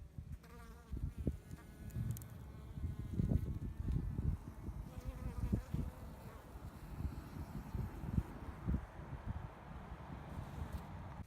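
Honeybees buzz at the entrance of a backyard hive in early spring, a faint, wavering drone of several insects passing close, with light wind noise and no talking.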